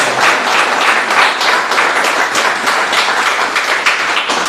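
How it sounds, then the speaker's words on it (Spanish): Congregation in church giving a loud round of applause to God, continuous dense clapping from many hands, close and steady without pause for the whole span. "dale un fuerte aplauso a Dios"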